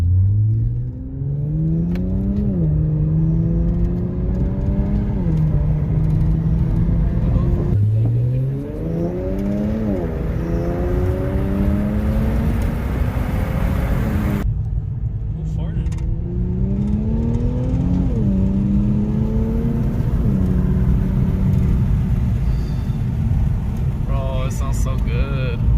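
An Infiniti Q50/Q60 with an Ark Performance exhaust revs repeatedly, rising and falling in loud sweeping bursts, the deep exhaust drone holding steady close by between pulls.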